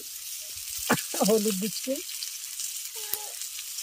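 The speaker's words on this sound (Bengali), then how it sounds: "এগুলোকে একটু আলু হলুদ আর লঙ্কা দিয়ে এগুলোকে একটু ভাজা ভাজা করে নিচ্ছি" Sweet potato pieces sizzle steadily in hot oil with turmeric and chili in a home kitchen, a continuous bright frying hiss under a woman's brief spoken remarks.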